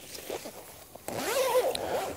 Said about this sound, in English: if we unzip the double layered zipper